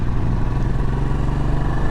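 A 2020 Royal Enfield 500 Trials motorcycle engine runs close and loud as the rider goes down through the gears, giving a steady, throbbing drone with no speech.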